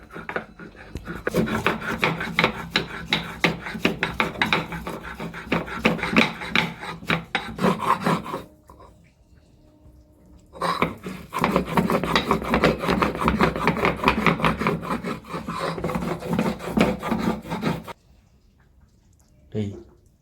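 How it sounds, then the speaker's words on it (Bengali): Whole garam masala spices are ground by hand on a traditional stone slab, a close, dry rasping scrape in rapid back-and-forth strokes, two long bursts separated by a short pause, with a voice speaking at times. "একটু গোটা গরম মশলা এই শিলে একবারে বেটে নেব।"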